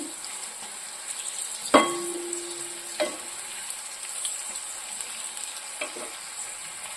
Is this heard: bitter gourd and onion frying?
yes